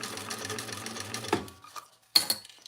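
Sewing machine stitching two pieces of fabric right sides together at the seam allowance, a close steady mechanical whir that stops partway, followed by a couple of brief clicks and clatters.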